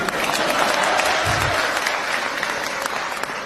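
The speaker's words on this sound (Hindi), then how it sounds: "ताली बजा दो" An audience at a comedic stage speech breaks into loud, sustained applause, a dense wash of clapping hands that carries on steadily throughout.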